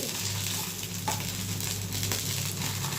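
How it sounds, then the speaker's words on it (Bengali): Steady, dense sizzling of paneer pieces frying in hot oil until light brown, loud and close, with a few faint clinks, no voices. "পনিরের পিসগুলি এইভাবে একটু হালকা ব্রাউন কালার করে ভেজে নিয়েছি"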